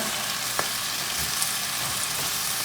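Peppers cooking in a frying pan give off a continuous, even hiss of sizzling oil close by, with a faint scrape or two from turning the food.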